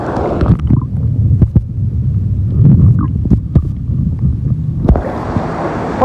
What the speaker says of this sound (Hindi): आवाज़ तो बहुत शोर कर रहा है पानी की।